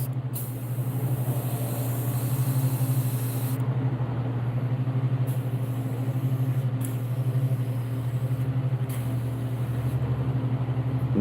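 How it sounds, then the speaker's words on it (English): An airbrush sprays orange paint over a koi fish design, giving a steady close hiss with a constant compressor hum underneath and brief pauses in the spray. "and take the orange and spray right over the top"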